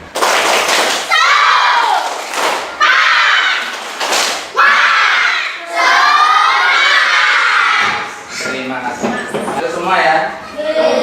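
A loud group of fifth-grade children in a classroom shouting a rhythmic spirit chant together, punctuated by bursts of clapping, close and energetic throughout.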